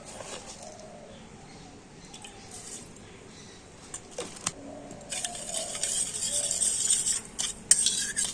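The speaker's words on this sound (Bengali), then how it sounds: "গরম দুধের সাথে ইস্ট আর চিনিটা একটু ভালো করে গুলে নেব" Yeast and sugar being stirred into warm milk, quiet swishing with light clinks and taps of a spoon against the bowl that grow busier toward the end, close and alone.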